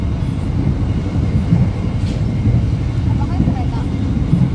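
Steady low rumble and rolling noise fill the inside of the Bangunkarta passenger train as it travels toward Senen station in Jakarta. Faint voices sit beneath the continuous drone.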